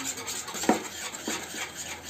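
A spoon stirs a thickening milk mixture for peda in a pan, giving soft scraping and rubbing strokes with one sharper clink near the middle, fairly quiet and steady with no talking.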